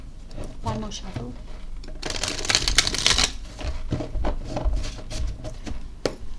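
Close tarot card shuffling with quick riffling and clicking, building to a dense burst midway, then lighter taps; faint speech sits underneath.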